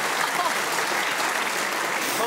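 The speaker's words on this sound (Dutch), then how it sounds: "maar dit is het vreedste applaus ooit" Studio audience applause on a Dutch satirical news show, a steady dense wash of clapping close and loud, sustained without pause and with no talk over it.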